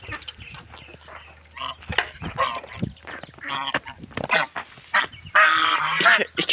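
A mother goose honks loudly and repeatedly at close range among other farm fowl, in harsh bursts that come irregularly and crowd together toward the end.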